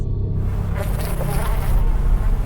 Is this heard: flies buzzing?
yes